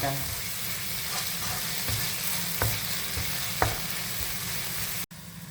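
Spices with turmeric powder fry and get stirred in a pan for a Kerala-style rabbit roast, a steady close sizzle broken by a few soft scraping stirs and a short cutoff near the end.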